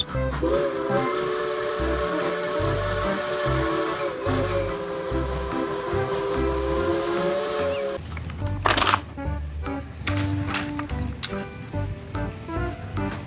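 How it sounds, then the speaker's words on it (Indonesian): A toy Thomas train runs with a steady, hissing steam-whistle tone for about eight seconds. The whistle then gives way to rattling plastic clatter and short bursts of toy noise. "Kereta Thomas."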